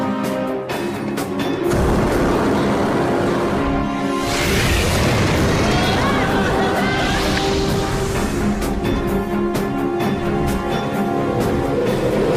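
Sudden roaring burst of fire as platinum combusts with oxygen and hydrogen, a film sound effect that swells loud and dense after a low rumbling build, then sustains as a heavy, booming blaze.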